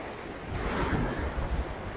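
Waves wash onto Sangwan Beach on Koh Larn island, Thailand, a steady broadband surf that swells and recedes with wind buffeting the microphone. No one speaks.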